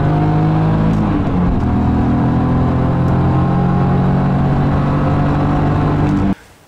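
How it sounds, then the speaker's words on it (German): A BMW Z car on the Oschersleben racetrack in the rain, fitted with semi-slick tyres, revs hard through all its gears with a loud, continuous engine roar that climbs in pitch. The roar cuts off abruptly just before the end. "Ziehst alle Gänge komplett hoch, soweit es geht."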